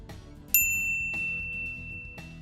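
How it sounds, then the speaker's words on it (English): A bright notification bell rings three times, each ding sharp and clear with a ringing tail, spaced unevenly and heard alone without speech. "ring the bell to be notified about our latest videos"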